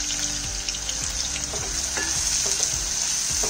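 Onions sizzle in a hot pan with a loud, continuous hiss. Light stirring clicks and scrapes recur about every half second.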